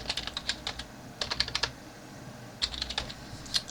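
Fingers type on a computer keyboard, entering form fields such as a name and address, in quick bursts of crisp clicking keystrokes separated by short pauses, close and clear with no voices.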